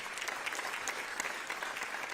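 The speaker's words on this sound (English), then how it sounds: "Let's give her a round of applause." A crowd claps together at a New York governor's announcement, a continuous patter of hands heard somewhat distant and moderately quiet.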